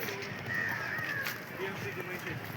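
A crow caws outdoors at Rajiv Gandhi National Park in Pune, a harsh call rising over faint background noise, at moderate distance.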